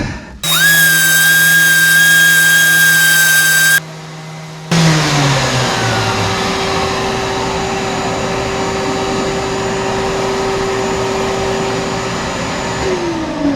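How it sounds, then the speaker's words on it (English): A power sander whines loudly against patched screw holes on a wooden boat hull under repair. It starts up, drops briefly in load, then runs on steadily with a slowly shifting motor pitch and no talking. "So I'm going to sand that a little more."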